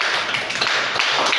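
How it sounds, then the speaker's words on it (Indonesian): Students in a school classroom clap for a classmate, a dense, steady patter of many hands lasting about a second and a half with no talk over it. "tepuk tangan untuk Indah"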